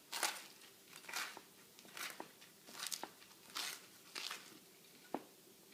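A grinder sandwich gives several crisp crunchy bites in a steady rhythm, each a short burst of crackle heard up close with no talking.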